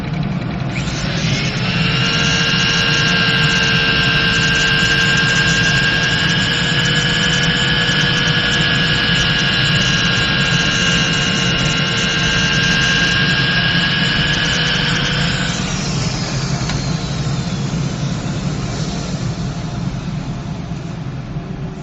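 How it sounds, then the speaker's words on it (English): A workshop dust collection system runs as a loud, steady roar with a high whine on top, then cuts off partway through and spins down into quieter room noise. "let me turn on my dust collection here"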